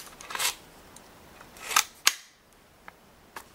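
An unloaded AR-15 rifle fitted with a Bushnell red dot being safety checked, a few sharp metallic clicks and clacks of the action, close and distinct with quiet gaps between.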